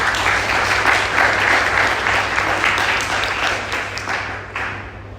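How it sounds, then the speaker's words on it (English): An audience at a health-industry presentation applauds the Healthy Hospital team, full, loud clapping that rolls on for several seconds before tapering off. "I would just really would love to ask you for an applause for the team at Healthy"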